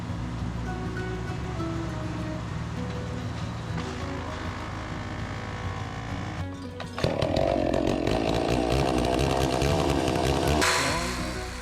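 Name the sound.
chainsaw cutting wood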